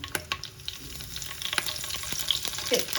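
Curry leaves, chillies and mustard seeds frying in oil crackle and sizzle in a pan, with sharp pops and spits over a soft continuous hiss, close and fairly quiet, no voices.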